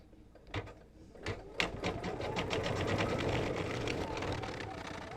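An embroidery sewing machine stitches lettering, starting with a few separate clacks before settling into a fast, steady mechanical whirr of needle strokes, close and moderately quiet.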